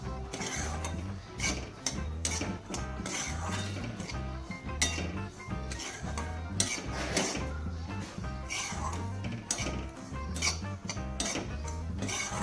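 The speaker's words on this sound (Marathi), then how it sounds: "आपल्याला उलटाण्याच्या साहाय्याने हा सतत परतत राहायचा आहे" Semolina being dry-roasted in a pan while a spatula stirs it continuously, giving rapid rhythmic scraping and clinking strokes against the metal, close and busy throughout with no talk.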